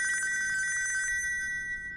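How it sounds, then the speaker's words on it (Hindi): Telephone bell ringing in rapid repeated trills, fairly close and clear, for about a second before fading, with no talk over it. "अबे तेरा फोन बज रहा है, बहरा हो गया क्या?"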